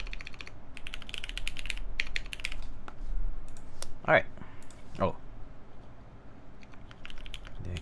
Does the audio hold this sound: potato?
no